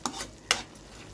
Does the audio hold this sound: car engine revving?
no